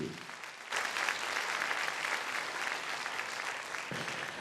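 A studio audience applauds the jury members at a televised music competition's quarter-final, steady broadband clapping that swells in suddenly and holds loud and continuous to the end.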